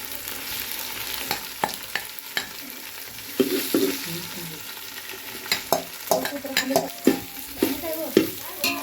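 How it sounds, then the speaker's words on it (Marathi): Grated coconut and onion roast in a pan with a steady sizzle, broken by repeated scraping stirs that grow more frequent toward the end, close and without talk. "खोबरं चांगलं भाजूया लाल होईपर्यंत"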